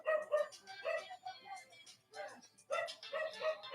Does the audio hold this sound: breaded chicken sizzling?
no